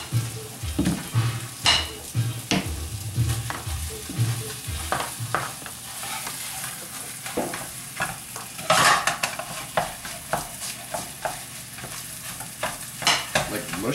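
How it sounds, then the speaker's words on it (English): A spoon scrapes and taps against a pan while eggs fry, breaking them up; a dense sizzle runs underneath with irregular clinks and scrapes close by, and no one speaks. "Use your spoon to break it up."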